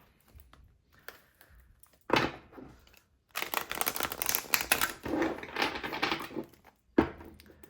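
Bursts of riffling and flapping paper sounds as a deck of tarot cards is shuffled several times close up, separated by short pauses.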